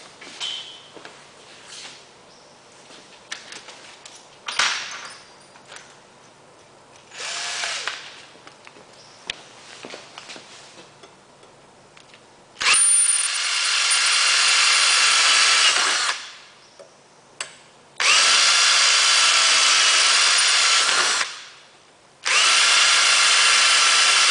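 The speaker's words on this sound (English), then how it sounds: "drill the holes." A power drill whirs in several bursts while drilling holes in a Karmann Ghia car during an electric conversion, short ones at first, then three long loud runs boring into material, with quiet handling noises between.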